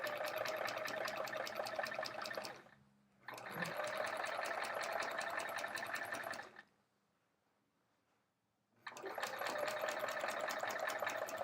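A sewing machine stitches a quilt with metallic thread in three steady runs of fast, even whirring, with a short pause and then a longer silent gap between them, quiet and close.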